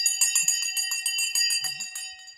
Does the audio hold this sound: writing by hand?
no